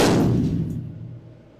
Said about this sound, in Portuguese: e o tiro de fuzil